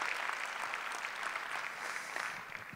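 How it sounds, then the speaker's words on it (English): A crowd at the ZeroCon18 award ceremony claps steadily throughout, a moderately loud, dense wash of applause with a few louder individual claps near the end. "a big round of applause for all the work you're doing"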